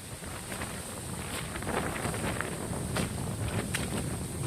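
Strong wind sweeps over an open rice field, a loud, continuous rushing roar with gusty buffeting against the microphone and no talking.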